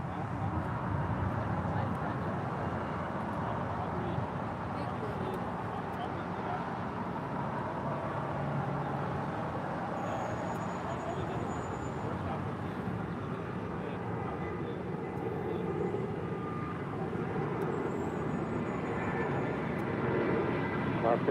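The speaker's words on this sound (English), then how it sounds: "United Airlines Flight 1400 heading to Chicago O'Hare. The 757-300 now rolling down 25 right." A United Airlines Boeing 757-300 rolling down runway 25 right at LAX on its takeoff run produces a steady broad engine roar at a distance, under continuous radio and commentary voices.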